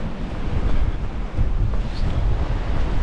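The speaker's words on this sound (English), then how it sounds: "It's quite a grey wet morning, very windy." Blustery wind on a grey, wet morning buffets the microphone beside the sea at Hunstanton, with waves surging in the background in a constant roar; no one speaks.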